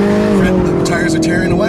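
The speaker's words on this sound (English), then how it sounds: "the tires are tearing away." A small car accelerates hard with its engine roaring loud and close, and its tires squeal in sharp bursts over the drone while a voice talks.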